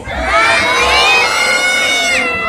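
Crowd of children and adults shouting loudly together in unison at the Three Kings arrival at Valencia City Hall, a sustained high cheering roar lasting throughout, close and dense.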